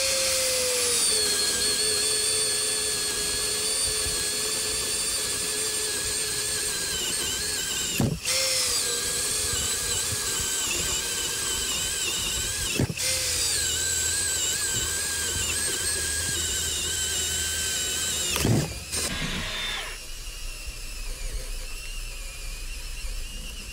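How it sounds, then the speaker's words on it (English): Cordless installation drivers set to low speed bore a 7/8 self-feed spade bit through stacked Advantech subfloor panels, a loud continuous whining grind broken by three brief catches before winding down and stopping near the end. "put a spade bit in it, self-feed 7/8, and try to drill through some Advantech flooring stacked up"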